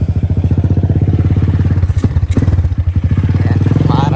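A motorcycle rides along a slippery road, its engine chugging loud and close in a steady pulsing beat, with a few clattering thumps from the bike partway through.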